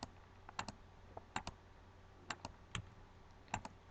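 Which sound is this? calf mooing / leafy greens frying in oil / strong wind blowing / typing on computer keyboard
typing on computer keyboard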